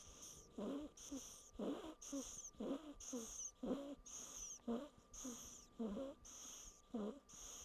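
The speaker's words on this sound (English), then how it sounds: "that is a baby goat snoring." A baby goat snores close by in a steady run of short, wheezy, rasping breaths, about a dozen in regular rhythm, with no talk over them.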